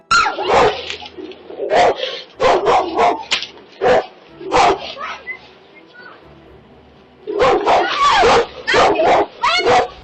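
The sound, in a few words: off-leash dog barking at woman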